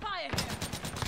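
Rapid Call of Duty gunfire rattles in a quick rhythmic burst of close shots, following a brief sweeping tonal sound at the start.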